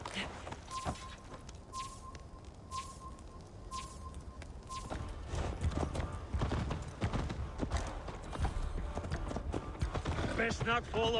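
Horse hooves clip-clopping in Assassin's Creed Valhalla during a drunken horse race, a steady rhythmic beat under music and ambient game sound, growing louder and busier partway through.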